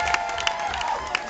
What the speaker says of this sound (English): A round of applause for our cigarette girl one more time.